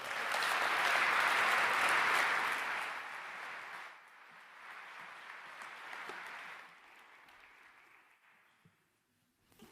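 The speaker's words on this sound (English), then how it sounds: "Ladies and gentlemen, please applaud Karen Armstrong." An audience in a Brussels lecture hall applauds Karen Armstrong, a full wash of clapping that swells loud at first, then gradually thins and fades away toward the end.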